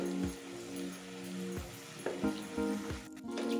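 Masala sizzles and fries in a hot pan as it is roasted, a steady crackling hiss broken by periodic scraping knocks of a spoon stirring from the bottom, close and moderately quiet.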